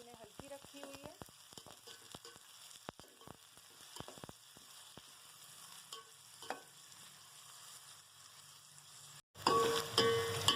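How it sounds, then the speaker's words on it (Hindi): Onions going into half a cup of hot oil over a low flame for chicken keema, a faint steady sizzle with scattered crackles and pops, close by, with a louder burst of frying near the end. "उसमें मैंने आधा कप ऑयल ऐड कर दिया है, ताकि ऑयल जो है गर्म हो जाए। अब हम इसमें प्याज ऐड करेंगे।"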